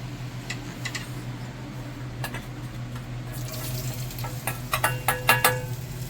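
Ginger frying in oil in a pan for chilli chicken, a steady low sizzle with scattered clicks and stirring scrapes that grow busier toward the end, no voices.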